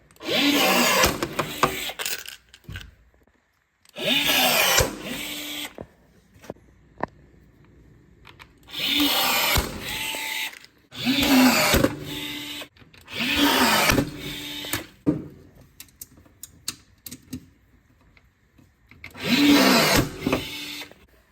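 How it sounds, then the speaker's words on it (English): Rivets going into side rails, a loud power tool whirring in repeated bursts of about a second or two, separated by short silent pauses, no voices. "We're going to install the rivet from the bottom here on this side and the one up front"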